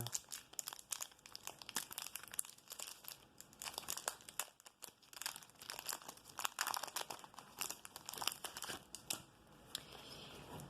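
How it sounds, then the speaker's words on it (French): Trading card booster packs being torn open, with bursts of foil crinkling and crumpling up close, irregular and fairly quiet, and no talking. "On va s'ouvrir ces 2 premiers boosters."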